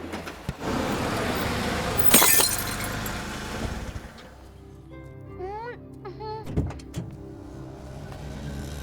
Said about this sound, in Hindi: तुमने मेरी गाड़ी की लाइट तोड़ दी।